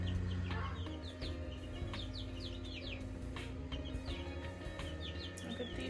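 Newly hatched chicks peep in a busy chorus of high, rapid chirps, close and continuous over a low steady hum, with no voices.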